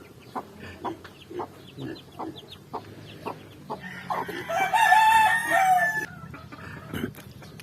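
Chickens cluck in short scattered bursts at a farmyard, then a rooster lets out one loud, drawn-out crow near the middle before the soft clucking resumes; no one speaks.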